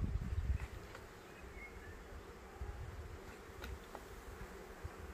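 A honeybee buzzes faintly around a frame of the beehive, with a low, continuous drone and soft rustling underneath and no voices.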